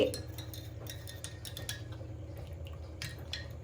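A spoon clinks and stirs in a glass of black coffee, a quick run of close, bright metallic taps over a low background hum.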